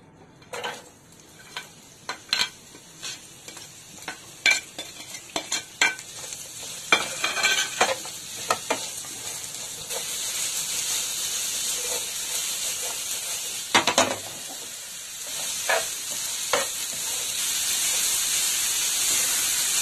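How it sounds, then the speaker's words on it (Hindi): Vegetables for Singapuri spring rolls stir-fry in a little oil, a bright continuous sizzle broken by repeated scraping and tossing strokes against the pan, which settle into a steadier hiss toward the end. "हमारी सब्जियां ये हल्के हल्के से, बहुत ज्यादा नहीं पकाना है हमें"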